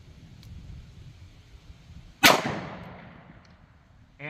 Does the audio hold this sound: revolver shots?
yes